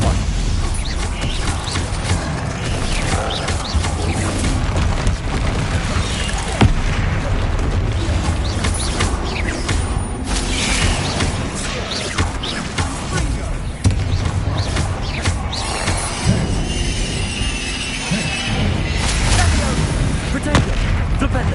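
Rapid barrage of spell blasts and booming explosions from Hogwarts Legacy combat inside a mine, dense and loud throughout, with repeated impacts over a constant rumble and a voice shouting spell names.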